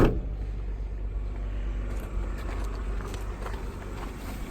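An auction car's engine idles and runs steadily, a low continuous rumble close by with no talk over it.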